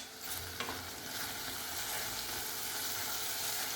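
Tomato with chili powder and goda masala sautéing in a pan for dal palak, a close, steady sizzle with brief scraping stirs, heard alone with no voices.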